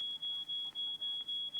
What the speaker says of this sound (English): We need to do something about that alarm.